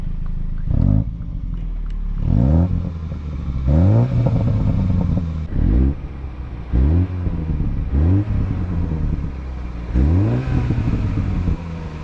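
An F56 Mini Cooper S revving repeatedly in loud, rising bursts, each followed by sharp exhaust pops and crackles, close and alone with no talk.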